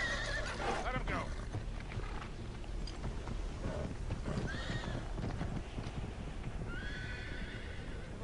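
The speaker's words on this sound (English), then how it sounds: "guess we're ditching the horses" Horses whinny and neigh amid clip-clopping hooves in the action game Uncharted 3: Drake's Deception, with several loud neighs near the start and end over steady hoofbeats and ambient game noise, while people talk.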